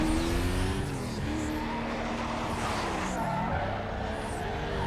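Car engine in Need for Speed: Most Wanted (2005, PS2) holding a steady drone with rising and dipping pitch as the car oversteers, with tire noise mixed in and no talking.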